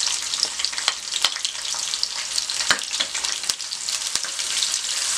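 Ginger frying in a hot pan for green sonchal saag, a dense crackling sizzle throughout with sharp spatter pops and stirring scrapes, close and fairly loud.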